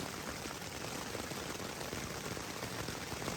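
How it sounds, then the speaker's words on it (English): Heavy rain pours onto a tent during a brief storm, a loud dense hiss of drops drumming on the fabric, constant and close with no pauses or voices. "It's raining out here. It's just gonna be quick. It's a quick storm. But it's pouring."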